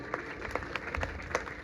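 Women applauding at a Bishnoi women's business summit in Jodhpur, a modest scattered round of hand claps at moderate distance, somewhat faint, with a few sharper individual claps standing out.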